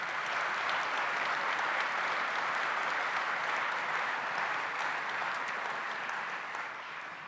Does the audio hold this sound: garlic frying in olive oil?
no